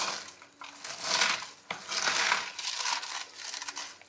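Food being mashed and squeezed by hand with salt, a close, soft squelching crush in uneven bursts with brief pauses.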